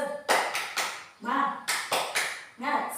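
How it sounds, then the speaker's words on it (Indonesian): A classroom group claps the Indonesian 'tepuk semangat' cheer in quick rhythmic bursts of sharp claps, grouped patterns separated by short pauses, close and loud with voices chanting along. "marilah kita melakukan tepuk semangat"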